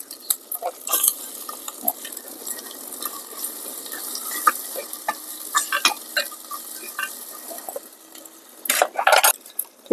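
Tomatoes go into ginger-garlic paste sizzling in a clay pot over a wood fire, with steady frying hiss, repeated clinks and scrapes of stirring, and a louder burst of sizzle near the end.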